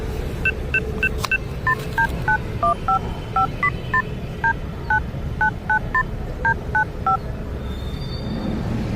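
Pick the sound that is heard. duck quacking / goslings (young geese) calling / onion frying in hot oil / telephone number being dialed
telephone number being dialed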